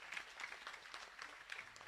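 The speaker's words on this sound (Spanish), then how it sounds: "Fuerte aplauso entonces para el Señor" A church congregation at a patronal feast Mass applauds in a faint, distant patter of many hands that keeps a steady spread of claps for a couple of seconds.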